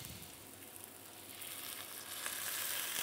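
Steady low sizzling from a pan of sliced shallot rings and garlic with a little water added, a continuous hiss that grows slightly louder toward the end, no voices.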